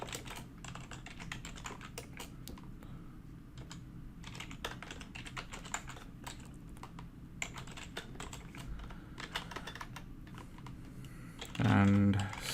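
Continuous rapid clatter of keys on a computer keyboard while code is typed, steady and close, with a brief louder thump near the end; no talk.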